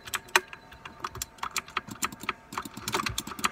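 Fingers tap quickly on a computer keyboard, producing a close, quiet series of irregular plastic key clicks and clacks that speed up into a busier burst near the end.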